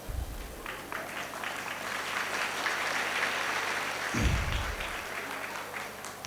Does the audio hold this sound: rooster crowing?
no